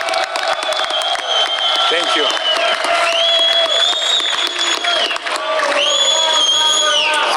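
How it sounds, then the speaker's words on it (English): Crowd cheering, whooping and applauding at a post-fight boxing press conference for Beterbiev vs. Bivol 2, loud sustained roar and clapping with shrill shouts, and someone speaking briefly over it. "a huge round of applause for the new undisputed light heavyweight champion"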